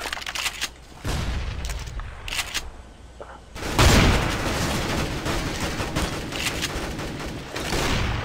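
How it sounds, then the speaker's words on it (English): A flashbang grenade goes off during a CS:GO match on PlayStation, one loud bursting boom after short gunfire crackles, followed by a sustained ringing wash of noise. "Flashbang."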